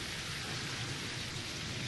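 Steady, dense rain falls in the video game Terraria, an even hiss with no let-up and no voices.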